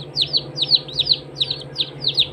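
Newly hatched chicks peep from an incubator in rapid, high, repeated chirps, loud and close, about a dozen calls in quick succession over a low steady hum.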